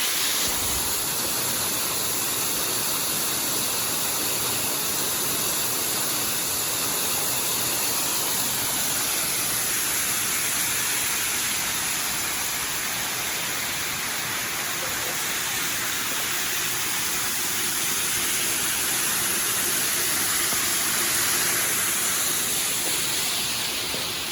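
Waterfall at Falling Waters State Park in Florida, a steady broadband roar of falling water that holds constant and fairly loud throughout, with no talk over it.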